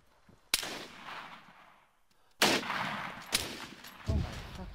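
Gunfire in a squad-based military video game: loud single shots crack out separately, each trailing into a rumbling echo, with a duller thump near the end.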